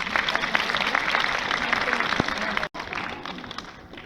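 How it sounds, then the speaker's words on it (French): Audience applause for a young cosplay contestant at a Japan Manga Wave cosplay contest in Amiens, a dense, steady patter of many hands with a brief dropout, continuing alongside an announcer's voice. "on peut encore l'applaudir."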